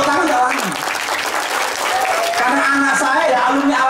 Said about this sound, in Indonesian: Tepuk tangan enggak lagi.